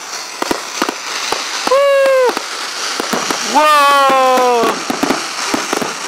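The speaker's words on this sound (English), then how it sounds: "Just watch the full version on mine. Of the 2014 fireworks." Fireworks bursting outdoors at a 2014 display in Saddle Lake on a cold Canadian night, with a run of sharp pops and crackles and two sustained whistling bursts, while spectators cheer and exclaim close by.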